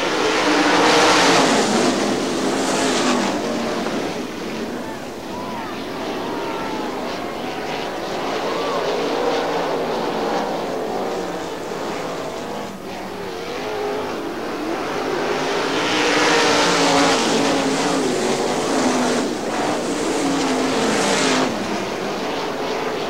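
410 sprint race cars roaring around the third and fourth turns at Butler Motor Speedway, engines swelling and fading as the pack passes, loud and continuous with some crowd and track ambience.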